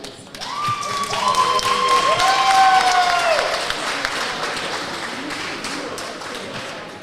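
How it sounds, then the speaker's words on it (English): Crowd applause at a powerlifting meet, a broad wash of clapping swelling over the first few seconds then thinning out, with voices talking under it. "Applause and pictures on these boys."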